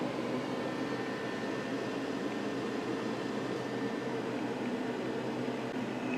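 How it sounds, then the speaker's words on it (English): A refrigerator runs on solar power with a steady, even mechanical hum and broadband whir, constant and unvarying, with no voices. "The fridge itself sounds fine."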